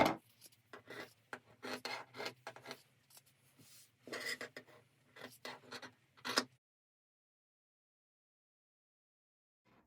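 Scissors cut through fabric for an oven dress towel, a series of short close rasping snips in irregular bursts that stop after about six seconds, leaving silence.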